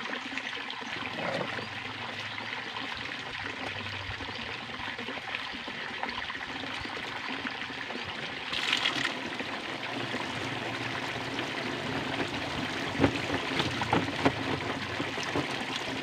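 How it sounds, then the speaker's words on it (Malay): Water runs steadily through a pipe into a tarpaulin fish pond, a continuous trickling and splashing wash that holds evenly throughout, slightly louder in the middle. "Ini kita isi air dulu."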